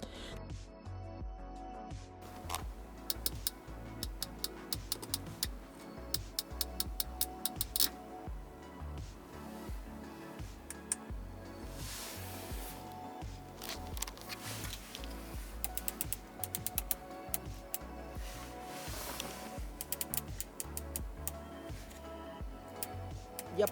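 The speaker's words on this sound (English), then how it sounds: "whenever you turn any knobs or a majority of the buttons on the interior, they make this clicking noise." Knobs and buttons inside a 2019 Audi S5 coupe interior click repeatedly in quick, close, quiet ticks, with irregular runs and pauses and no speech.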